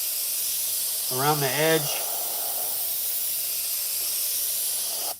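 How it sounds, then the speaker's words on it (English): A light airbrush hiss of paint spraying for shading on a 1960 El Camino's skirts runs steady and close throughout, with a brief spoken phrase near the start. "Going with the airbrush just real light."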